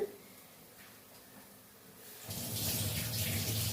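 Running tap water pours over kudampuli (garcinia) being washed, starting as a thin trickle and then gushing more strongly and loudly for the last second or so.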